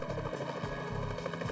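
A helicopter flies overhead with a steady, loud rotor chop, a rhythmic pulsing thump under a continuous engine whine, with no talk over it.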